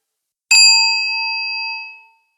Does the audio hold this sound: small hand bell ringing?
yes